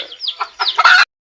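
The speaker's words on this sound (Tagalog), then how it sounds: "Yung mga manok natin dito na nangingitlog dito sa kulungan." Free-range laying hens cluck in a coop, a quick run of close, loud clucks and squawks ending in a sharper burst, then silence.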